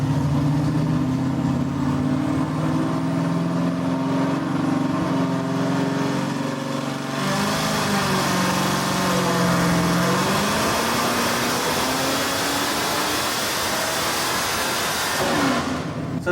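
A Corvette making over 1300 wheel horsepower roars through a full-throttle dyno pull, engine note climbing steadily and loudly, dipping briefly midway, then rising again before cutting off near the end.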